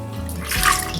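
Water pours into a pot to cover pork belly in a brief, close, loud gush that swells halfway through, with no talking.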